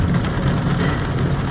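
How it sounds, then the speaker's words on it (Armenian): Heavy rain pours down outdoors in a park at Abovyan Square, a dense and continuous roar of drops hitting the surfaces nearby, with no voices. "Լավ անձրևը վայելեցինք ամետ։"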